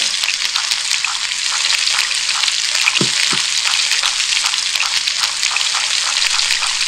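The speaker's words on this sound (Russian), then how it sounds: "так все поджаривается красиво, золотая корочка получается на рыбке" Steady, bright sizzling of fish frying in a hot pan in a cooking video game, continuous and close, with a couple of soft taps partway through.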